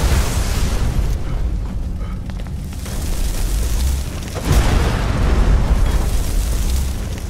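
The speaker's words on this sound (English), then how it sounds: "Was that the explosion?" A huge explosion in Skyrim: a loud, sustained rumbling blast with a second heavy burst midway, dense roaring debris noise filling the whole stretch.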